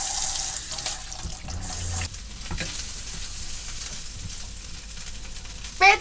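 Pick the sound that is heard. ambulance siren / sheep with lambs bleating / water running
water running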